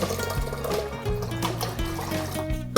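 Two liters of water poured into a pot for Korean janchi-guksu noodle broth, a continuous gurgling fill with shifting tones as the pot fills, steady and close.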